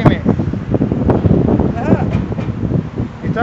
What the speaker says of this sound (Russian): И ветер сильный.